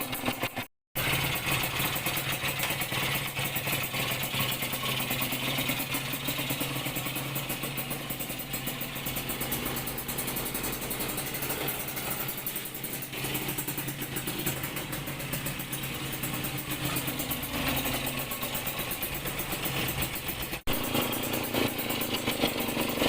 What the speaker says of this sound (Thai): ปรับรอบเดินเบาหา สกูอากาศได้ที่เรียบร้อยแล้วนะครับ